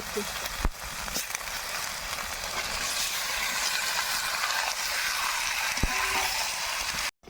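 Meat frying in a spiced masala gives off a continuous close sizzle and hiss, with a couple of sharp clatters and an abrupt cutoff at the end.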